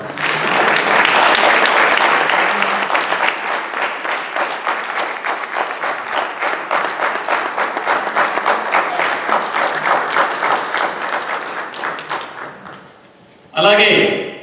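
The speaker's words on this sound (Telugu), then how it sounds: "చప్పట్లు." Sustained audience applause at a Telugu cultural event in Lewisville, loud and dense at first, then thinning into individual claps before a brief pause and a short burst at the end.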